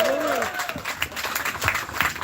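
An audience at an UHURU House event applauds and cheers for Penny Hess, dense clapping over crowd noise with a voice speaking at the start.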